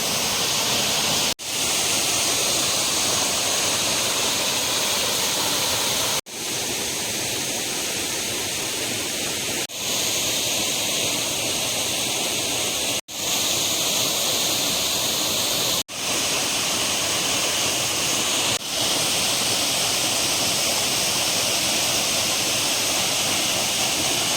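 A powerful waterfall roars steadily and loudly, heard from a rock nearby, a dense unbroken rush of falling water with no other sounds.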